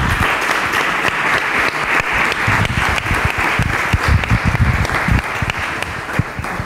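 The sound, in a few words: audience applause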